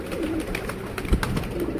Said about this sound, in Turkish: Bütün kuşlar Emiro'nun üzerine çıkmış görüyor musunuz?